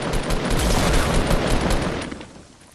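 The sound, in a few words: rocket launcher fire in video game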